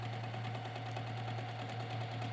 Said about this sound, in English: we're just going to sew that raw edge down